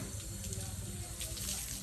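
Water runs steadily from a newly connected tap at home, a continuous hissing gush that fills the whole short moment, fairly soft and uninterrupted with no one speaking.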